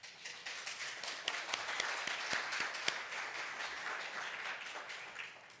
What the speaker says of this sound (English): I always know there's spontaneous clapping at this point in my presentation